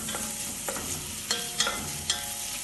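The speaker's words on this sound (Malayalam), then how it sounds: "ഉള്ളി വാടിത്തുടങ്ങുമ്പോൾ ഇതിലേക്ക് 1 ടേബിൾ സ്പൂൺ ഇഞ്ചിയും വെളുത്തുള്ളിയും ചതച്ചത് ചേർത്ത് ഇളക്കി വഴറ്റാം." Onion, crushed ginger and garlic frying in a pan while being stirred, with a steady close sizzle and several sharp scraping strokes of the spoon against the pan; no voices.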